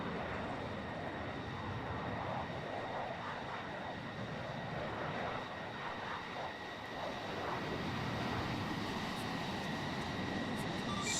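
A Banshee aircraft in a flight simulator game taking off, its steady engine roar holding loud and continuous throughout with no talk over it.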